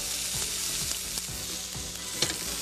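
Beef chorizo steak searing in oil in a pan, giving a dense, steady sizzle close by, with a few soft scraping stirs and no voices.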